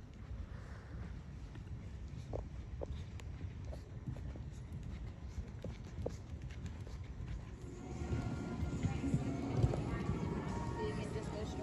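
Steady muffled hoofbeats from a horse being flatted under saddle at a working gait, at a horse show in Ocala, with a low rumbling background that grows louder toward the end.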